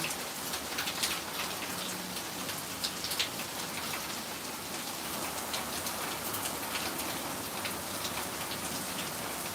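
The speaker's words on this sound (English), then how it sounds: "It is raining hard, but it's also the gutters that are making it like that." Heavy rain pouring and running off gutters, a dense continuous hiss and splatter with scattered sharper drips, steady and close throughout, with no talking.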